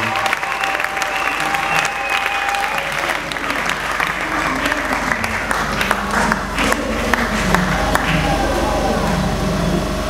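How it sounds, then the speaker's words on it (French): Church congregation applauding loudly and steadily for the glory of God during a service, dense sustained clapping with crowd noise and a few shouts filling the whole stretch. "Acclamons très fort pour la gloire de Dieu."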